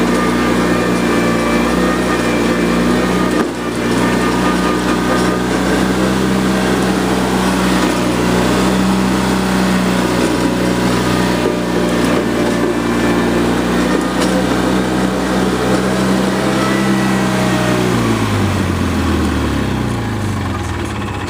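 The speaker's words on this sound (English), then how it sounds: "So there's your review of the Bolens lawn tractor, the Series 2000 Hydro Eliminator style machine." A Bolens Series 2000 Hydro lawn tractor engine runs loud and steady close by with a constant hum, then drops in pitch as it winds down near the end.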